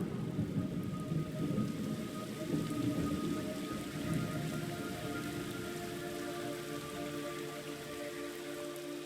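Heavy rain pours in the jungle of the video game Metal Gear Solid Delta: Snake Eater, with low rumbling thunder rolling underneath; the downpour stays steady and fairly soft throughout, with no voices.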